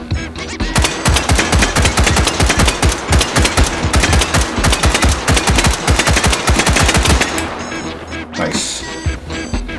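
PDC-15 short-barreled rifle fired in the VR shooting game H3VR, a long run of loud, closely spaced gunshots in quick succession, with a brief pause near the end.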